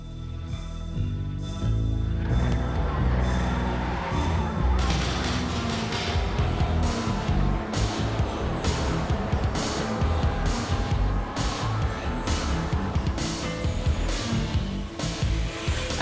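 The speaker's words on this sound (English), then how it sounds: "These are radio-controlled touring cars, 10th scale replicas of the real thing." Battery-powered 1/10 scale radio-controlled touring cars racing on a track, a dense continuous whine with repeated clattering knocks and crashes, loud and close throughout with no talk.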